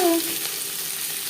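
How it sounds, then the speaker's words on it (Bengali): Chopped onions lightly frying in a pan for homemade chicken biryani, giving a steady close hiss of sizzling oil for just over a second. "পেঁয়াজ হালকা করে"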